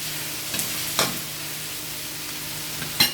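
Pressure-cooked pork dropped into a hot pan for adobo, a steady sizzle with a few clattering stirs and thumps, close and clear with no talking.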